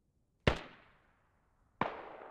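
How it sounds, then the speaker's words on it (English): Two sharp grenade blasts in a Squad firefight, each a loud crack with a decaying tail, spaced over a second apart against near silence. "throw grenades in the compound"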